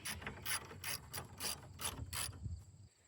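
A ratchet socket wrench turns a 10 mm bolt on a car battery, giving about seven quick bursts of close, loud ratcheting clicks in a steady rhythm before stopping, with no talk.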